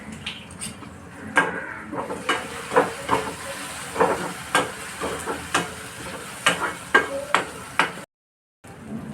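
Onion and tomato frying in oil in a pan, with turmeric added, for a dry Bombay duck dish: a soft, steady sizzle broken by repeated scraping and tapping of a stirring spoon, fairly close, ending in a brief cut to silence.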